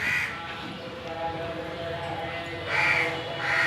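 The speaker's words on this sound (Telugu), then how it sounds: "కాకులు చూడండి చెట్టు మీద" Crows in a tree caw loudly in short harsh bursts at the start and near the end, with a steady murmur of outdoor background between the calls.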